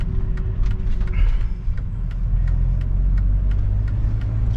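A 1991 Mercedes W124 230E with manual gearbox pulls up a steep hill in second gear, its engine giving a steady low rumble with faint ticking and road noise throughout.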